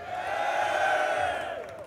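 Large crowd at a vaping expo in Britain, cheering and whooping with a broad sustained roar that swells and fades over about two seconds, close and fairly loud with no clear speech on top.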